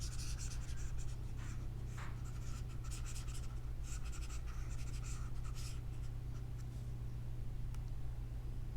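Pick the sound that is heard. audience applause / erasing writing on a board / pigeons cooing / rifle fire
erasing writing on a board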